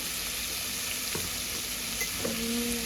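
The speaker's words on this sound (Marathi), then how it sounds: "घात घ्यायचा आता टोमॅटो. चांगला भाजून घ्यायचा." Chopped tomato frying in a hot pan while cooking a bottle gourd dish, a steady loud sizzle throughout with a couple of faint clinks from stirring.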